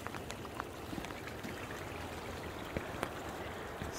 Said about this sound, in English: And there's a little stream.